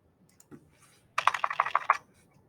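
Quick run of typing on a computer keyboard while entering a number into a spreadsheet, about eight crisp, close clicks in a short burst after a quiet stretch with faint background noise.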